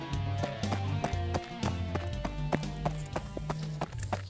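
Rhythmic hoofbeats of two horses galloping in an animated animal series, steady clip-clop thuds over a low musical drone, fairly close and continuous.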